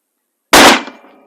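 A single Savage Axis rifle in 6.5 Creedmoor fires one sharp, loud shot at close range, with a brief decaying tail and no voices.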